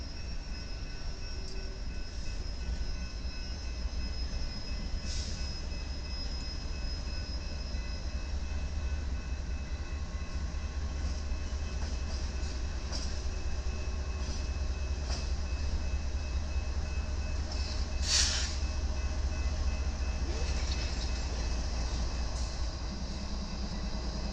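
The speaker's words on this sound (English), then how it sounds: "we catch a double meet with BNSF and a UP train" BNSF and Union Pacific freight trains pass each other in a double meet near a rail yard in St. Louis. A loud, continuous low rumble of rolling cars lasts throughout, with occasional faint squeals.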